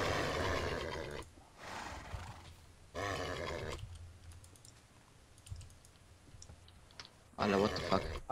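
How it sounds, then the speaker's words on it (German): Horses neigh in the video game Minecraft in several short, loud whinnying bursts, with keyboard and mouse clicking and people talking in between. "Oh, wir haben Pferde."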